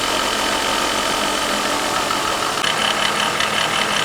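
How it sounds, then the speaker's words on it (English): Car engine running steadily and loudly in a home garage, with a knocking, rhythmic pulse that comes and goes over a continuous broadband roar, no talking. "All right, let's start this car."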